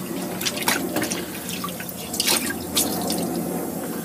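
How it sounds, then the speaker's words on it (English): Fresh water splashes and drips over a Viron pH chlorinator probe as it is rinsed, making irregular close trickles and droplets with a few louder splashes and no speech. "And just rinse it off with a bit of fresh water."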